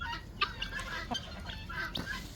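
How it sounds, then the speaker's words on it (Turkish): Guinea fowl peck at and eat fat on a farm, with scattered soft clucks, chirps and quick beak taps close by. "bir şu beçlerin nasıl et yediğini bir görmenizi istedim"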